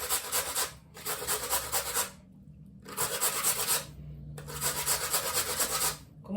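Potatoes grated on a hand grater for potato pancakes, four separate bursts of close, loud rasping strokes with short pauses between them and no talk.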